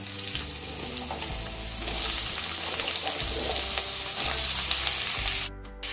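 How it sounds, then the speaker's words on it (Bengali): Cut pumpkin pieces sizzle loudly in hot mustard oil in a wok, a dense steady frying hiss with soft stirring scrapes that cuts off briefly near the end. "সর্ষের তেল আমাদের ভালোভাবে গরম হয়ে গেছে। এরপর আমরা এর মধ্যে দিয়ে দিচ্ছি কেটে রাখা কুমড়োগুলোকে।"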